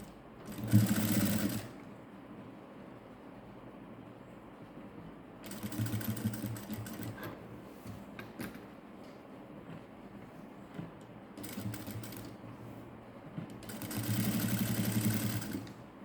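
A sewing machine stitches lace onto a narrow fabric border in three short runs of steady whirring. Quiet stretches of low background noise and handling sounds fall between the runs, and the machine is heard close with no talking.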